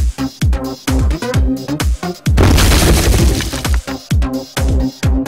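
Monuments being blown apart in the video game Manifest Destiny, a loud string of booming blasts and shattering crashes in quick bursts, with a longer roaring rumble in the middle.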